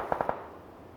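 Three rapid gunshots from a PUBG match ring out in a quick even burst at close range, then fade into quiet game ambience.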